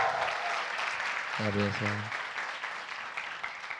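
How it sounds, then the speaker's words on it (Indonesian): Crowd applause at a stand-up comedy show on the UPN campus in Jakarta: steady, dense clapping fills the whole stretch, with a voice speaking briefly over it near the middle. "Tepuk tangan dong"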